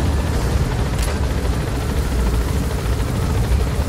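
Attack helicopter in Metal Gear Solid V, a steady loud rotor drone with dense low-frequency chop filling the whole stretch, close and continuous with no voices over it.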